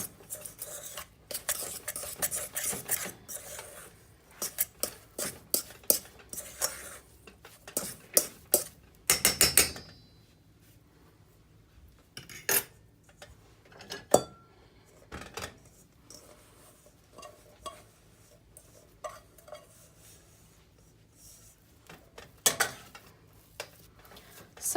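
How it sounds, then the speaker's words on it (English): Shortbread crust for a low carb, sugar-free pecan pie mixed in a bowl, with repeated scraping and clinking strokes that come in uneven bursts and then thin out into sparse, softer taps. "I'm just mixing that together until it kind of binds"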